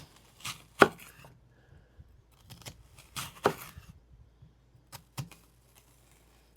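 A knife slices onion on a cutting board for a cucumber salad, making a handful of quiet, separate cuts with pauses between them.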